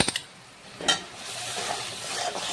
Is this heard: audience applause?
no